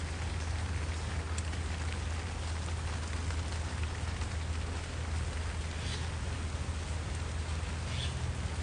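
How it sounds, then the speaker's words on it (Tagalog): Heavy rain falls steadily on a rainy day in Taipei, a dense, constant close hiss of drops with low rumble underneath and no voices. "Lakas ng ulan."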